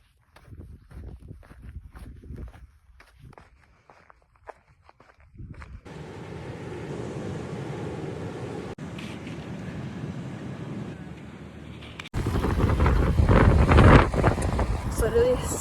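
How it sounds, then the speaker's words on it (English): Strong wind buffets the microphone outdoors in the early morning as a low, roaring rumble that builds partway through and grows loudest near the end, with faint scattered sounds before it. "It's literally so windy everywhere."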